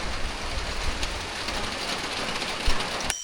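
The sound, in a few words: rain falling in the forest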